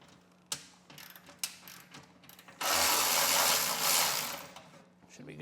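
A 15 mm bolt on a 2023 Harley-Davidson Street Glide exhaust is loosened with a ratchet. A few sharp clicks are followed by a louder, sustained rasping ratchet run, close up and without talk.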